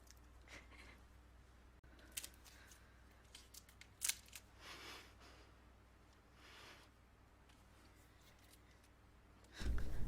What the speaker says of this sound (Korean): 붙어버린 발가락 사이를 독하게 가위로 잘라버립니다